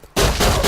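A single loud, close gunshot in the survival game Rust, an abrupt blast that rings out briefly after a short quiet moment.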